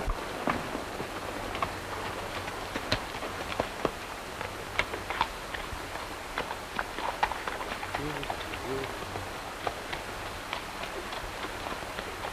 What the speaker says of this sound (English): Looks like Madigan's horse.